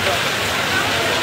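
Heavy rain pours over Maijdee town in Noakhali, a dense, steady hiss of drops on surfaces that holds at an even level throughout.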